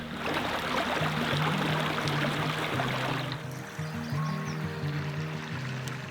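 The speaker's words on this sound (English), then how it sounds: "Hiking next to a creek right now, and so you can hear this like babbling brook right next to us." A babbling creek beside a hiking trail in Zion National Park flows close by with a continuous bright rush and gurgle, loud and steady throughout with no talk.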